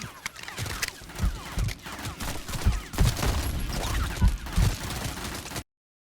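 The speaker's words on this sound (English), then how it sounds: "Who is shooting at me?" Gunfire in a first-person shooter video game: a fast, uneven string of crackling shots and thuds for several seconds, fairly loud and close, ending abruptly in silence.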